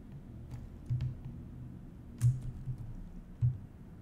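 Typing on a computer keyboard while modelling a gas pump in Maya: a run of soft, close key clicks with a few louder, heavier presses standing out, irregular in rhythm and without speech.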